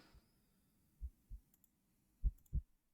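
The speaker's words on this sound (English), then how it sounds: "You feel like you can hear your heartbeat" Low, muffled heartbeat thumps in a horror video game, sounding as a few soft pairs of beats with gaps between them against near silence, plus a couple of faint high ticks.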